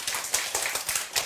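An audience at a talk on facing parents' ageing and death claps briefly, a short burst of quick, fairly close hand claps.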